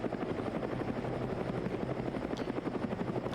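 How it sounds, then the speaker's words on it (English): Helicopter flying in the video game Arma, a steady pulsing rotor thump with a constant engine drone that holds at an even level throughout, with no talk. "I am trying to actively RPG that helicopter if I can"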